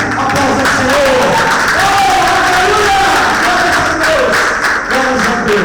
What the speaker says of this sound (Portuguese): Você pode dar aplausos ao Senhor.